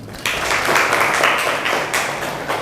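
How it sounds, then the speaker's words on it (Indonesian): Applause from the audience at an Indonesian lecturer certification class session, a dense continuous patter of many hands clapping that holds steady at moderate loudness throughout. "Oke, tepuk tangan untuk semuanya."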